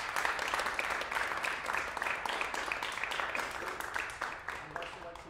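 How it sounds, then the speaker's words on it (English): Audience at a junior saxophone recital applauds, a steady dense patter of many hands clapping that carries through and fades a little toward the end. "So could you please give them a round of applause?"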